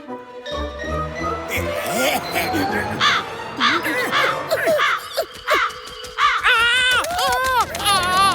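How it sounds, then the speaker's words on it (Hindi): Cartoon crow cawing in a Hindi animated show, a string of repeated harsh caws through the clip, loud and close, mixed with excited cartoon voices and music. "ये तो सच में सफेद कौवा है भाया"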